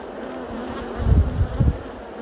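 Honey bees buzz steadily through a weekly hive inspection by a new UK beekeeper, a continuous close hum that swells louder in two brief surges near the end.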